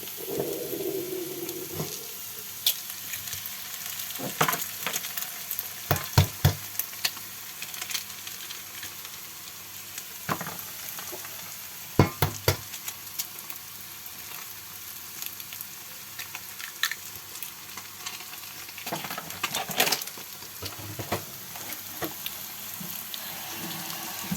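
Beaten eggs frying in a pan for egg noodles, a soft continuous sizzle with scattered scrapes and clinks as they are stirred, close but fairly quiet and without talk.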